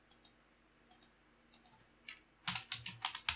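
Quick bursts of keystrokes on a computer keyboard while a formula is typed, close and crisp, with short pauses between clusters before a denser run of clicks at the end; no one speaks.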